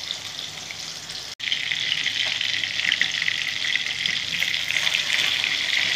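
Pieces of katla fish fry in hot oil, giving a loud, steady, dense sizzle that runs through the whole stretch with only a brief dropout near the start, and no voices.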